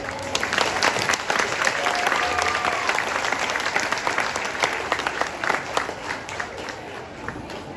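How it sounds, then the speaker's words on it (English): Audience applause at a county 4-H fair mullet contest, a steady crackling round of clapping from a crowd, sustained and fairly close throughout with a slight easing toward the end. "Give them one more round of applause."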